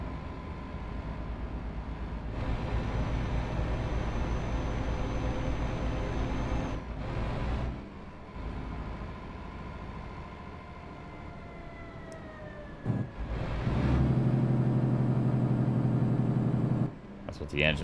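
A Scania truck in Euro Truck Simulator 2 runs with its engine brake engaged, producing a sustained low rumbling drone with shifting pitch and several abrupt changes in loudness. Someone talks over parts of it.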